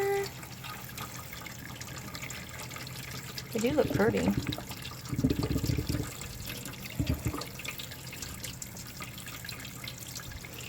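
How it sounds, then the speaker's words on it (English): Homemade egg noodles rinsed under cool running tap water in a kitchen sink, a soft steady stream with splashing, while a person talks briefly over it. "Rinse them with cool water."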